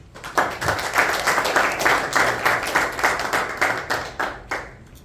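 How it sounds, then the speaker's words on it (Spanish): An assembly audience gives applause at a Guayas legislator's public accountability report, a dense, rhythmic round of clapping that rises quickly, stays strong for several seconds, then fades. "a quien pido un fuerte aplauso"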